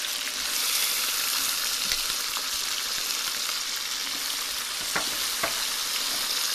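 Tomatoes sizzle and fry in a pan for karela chana daal, a loud, steady crackling hiss with a few sharp pops, close and continuous throughout.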